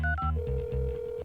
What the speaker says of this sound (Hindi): मैं उसे अभी कॉल करती हूँ।